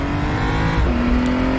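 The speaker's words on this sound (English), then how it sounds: "Once you get this car turned, you want to be back on the gas as hard as possible." BMW M235i Racing car powering out of a chicane on the Portimao race track, loud engine note climbing under hard throttle with a pitch shift partway through, no talk.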